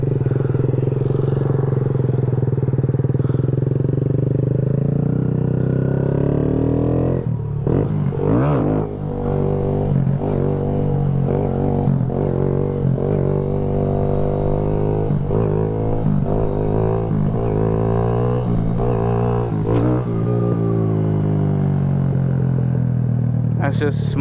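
Kawasaki Z125 Pro motorcycle cruising in second gear, a steady engine drone with rising and falling pitch and some wind rumble, heard close throughout; a rider talks over it.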